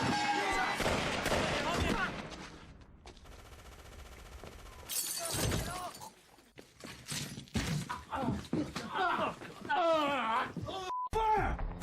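Gunfire rattles through a film shootout involving Triad and Yakuza gangs and FBI agents, with bursts and sharp cracks mixed among crashes and shattering, and voices speak between and over the shots.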